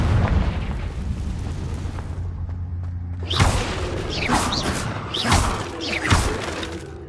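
A Confringo blasting curse goes off in the Hogwarts Legacy video game, a sharp crackling burst followed by several loud shattering, rumbling blasts over a low steady game background hum.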